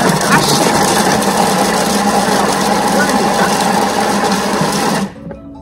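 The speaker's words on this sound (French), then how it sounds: "Donc 5 secondes vitesse 5, ça c'est le grand classique pour hacher." A Thermomix blade chops leeks at speed 5, giving a loud, steady high-pitched whir for about five seconds before it cuts off abruptly.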